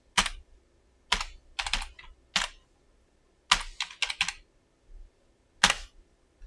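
A root password is typed on a computer keyboard as sparse, crisp key clicks, in single taps and short quick bursts with pauses between them, close and alone in a quiet room.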